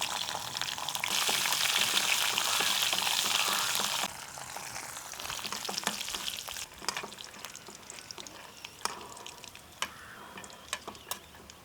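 Cashews and raisins frying in hot ghee give a loud, steady sizzle, then quieter bubbling broken by scraping clicks of a stirring spoon.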